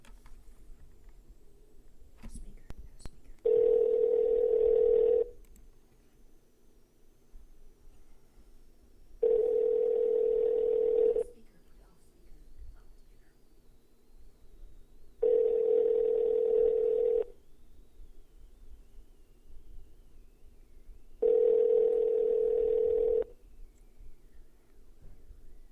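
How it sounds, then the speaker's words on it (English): An outgoing telephone call rings out with four evenly spaced ringback tones, each lasting about two seconds, steady and clear, separated by quiet pauses before voicemail picks up. "we are now going to start with our first call from Jess"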